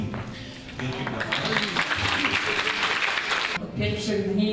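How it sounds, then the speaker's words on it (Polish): An audience claps at a gala for senior-friendly places held at a museum of Polish Jewish history, dense sustained applause filling the hall with a speaking voice over it, thinning briefly near the end. "Wielkie brawa."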